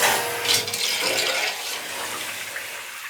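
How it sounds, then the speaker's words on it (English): Water rushes into a newly replaced hot water storage tank, a loud steady hiss and gush that settles slightly over a few seconds. "Got the water on."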